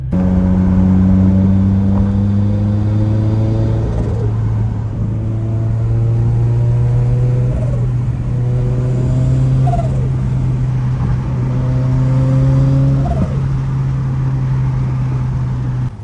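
Turbocharged widebody Toyota FRS engine held at steady revs with rising, overlapping tones, loud and close throughout, with a few short whooshing blips along the way and no talking.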